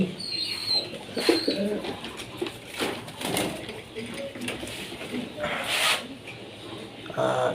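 Pigeons, a mix of males and females kept for sale, coo repeatedly in soft, low rhythmic phrases close by, with someone talking over them throughout.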